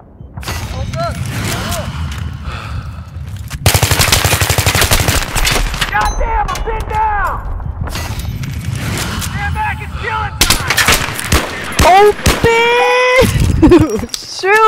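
Video game gunfire in a multiplayer shooter match, loud rapid automatic bursts and repeated shots close up, with a player talking over parts of the exchange.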